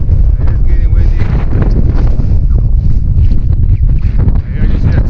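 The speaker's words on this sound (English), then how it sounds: "It is getting windy." Strong wind buffets the microphone on a hilltop trail, a loud continuous roar with rumbling gusts and rustling throughout.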